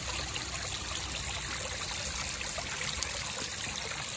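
Steady water of a custom fountain trickling and splashing over rocks with cliff faces into a lined basin, a continuous close-up babble with no voices.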